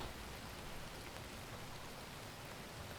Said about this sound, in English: you want to add some rain noise or like some white noise or something